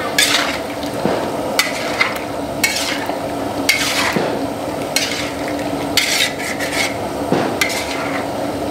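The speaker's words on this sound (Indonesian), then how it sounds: "Kita aduk lagi, bro." Food is stirred in a pan with MSG added, and a utensil rasps and scrapes repeatedly in an uneven rhythm, close and fairly loud, over a faint sizzle.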